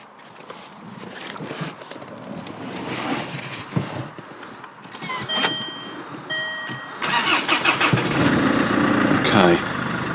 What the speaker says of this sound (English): just give the car a quick start and just see how that feels